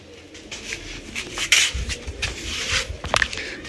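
Pet pigeons kept for pairing, heard close up with faint cooing, wing flutters and scraping shuffles, plus a few brief sharp knocks, all fairly quiet.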